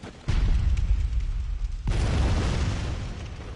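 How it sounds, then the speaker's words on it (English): Cannon fire in the video game Bloodborne booms out twice, two heavy deep blasts with rumbling tails over a constant noisy wash, loud and fairly close. "We got cannons behind us, though, it looks like. Yep, 2 cannons. He's firing off one now."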